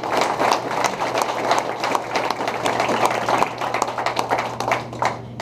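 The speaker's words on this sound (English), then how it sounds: "let's give her a big round of applause" An audience at an award presentation applauds steadily, dense overlapping claps sustained for several seconds at close range, with a low steady hum underneath.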